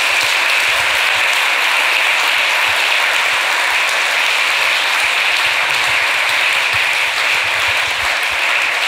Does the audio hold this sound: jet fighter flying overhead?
no